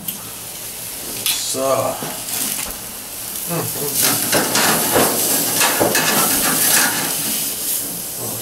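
A flat iron steak sizzles steadily in a hot pan just after being flipped, with a broad hiss swelling and crackling throughout, while someone speaks briefly over it near the start.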